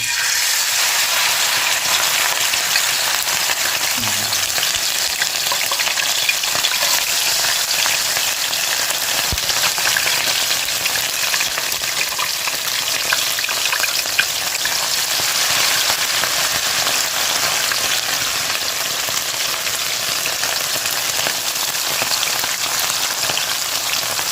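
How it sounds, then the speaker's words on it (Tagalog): Continuous loud sizzling and crackling of fish frying in hot oil, steady and close throughout with no voices. "prito na po tayo"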